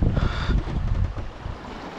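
Gusty sea wind buffeting the microphone aboard a sailboat off the French Atlantic coast near Les Sables-d'Olonne, with a low rushing roar that eases and swells over a couple of seconds.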